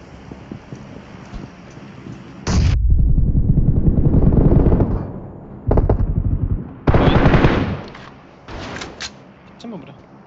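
Rapid bursts of automatic gunfire in PUBG Mobile on the Miramar map come in several loud volleys separated by pauses, with players talking over the shooting.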